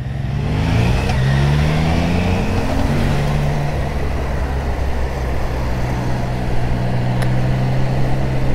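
A Triumph Trident 660 three-cylinder motorcycle engine runs at low revs with a smooth, steady low hum and a brief rise in pitch near the start, loud and close over wind noise.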